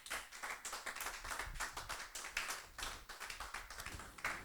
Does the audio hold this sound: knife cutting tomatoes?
no